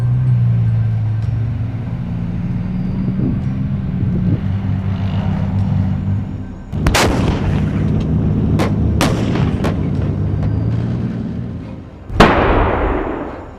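A Stridsvagn 122 main battle tank fires its 120mm smoothbore main gun: a rumbling engine idle, then several sharp, loud booming blasts in close succession, with a final heavy report near the end.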